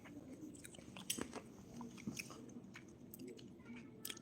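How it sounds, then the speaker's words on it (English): Ice in a cold drink gets slurped and crunched up close, with soft irregular crunches and wet clicks scattered through a quiet room. "if you're hearing any slurping. She's got ice in this thing too"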